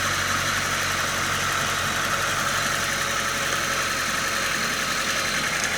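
A four-cylinder Mazda 6 car engine idles steadily and close by, a constant mechanical hum with a faint knocking texture running unbroken throughout, with no voices.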